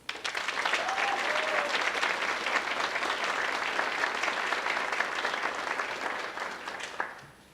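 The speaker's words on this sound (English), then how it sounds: "Please give a round of applause for our outgoing ambassadors." An audience at an Eagan July 4th Funfest ambassador scholarship coronation applauds the outgoing ambassadors, a loud, sustained roar of many hands clapping that holds steady before tapering off at the end.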